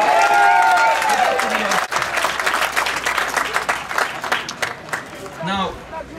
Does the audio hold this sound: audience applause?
yes